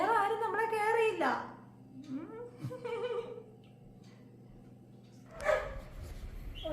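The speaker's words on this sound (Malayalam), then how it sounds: "ഈ പട്ടി കുറയ്ക്കണ കാരണം ഒന്നും കേൾക്കണ്ട" A dog barks and yelps indoors at a home, with short bursts mixed among people talking nearby.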